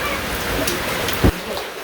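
Rain falls steadily, a dense hiss of drops on surfaces, broken once by a brief dull thump near the end.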